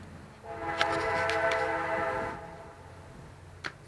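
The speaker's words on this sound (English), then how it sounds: "It's a train." A passing train sounds its horn in a few clear blasts, moderately distant over a low rumble of wheels, then fades, with one short final toot.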